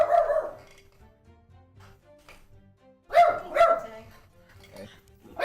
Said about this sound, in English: Dog, yes. Loud barker.